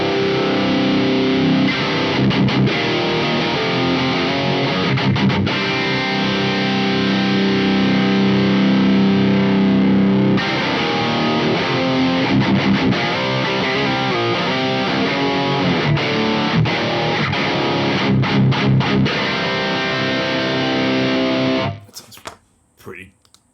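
Heavily distorted electric guitar through a Mesa Boogie MkIIC+ amp model chugs in dense palm-muted riffs with sustained chords, loud and continuous, ending in a few abrupt stops.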